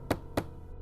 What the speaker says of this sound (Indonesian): Perlahan kesadaranku kembali saat mendengar suara ketukan itu. Benar, itu jelas dari pintu depan.